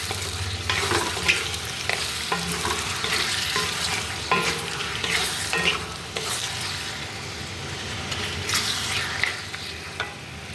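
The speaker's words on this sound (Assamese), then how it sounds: "ইয়াতে এনেকৈ লৰাই থাকিম।" Sweet mango pickle stirred in a hot pan, with a continuous sizzle of frying and repeated scraping strokes of the spoon against the pan, close and steady throughout.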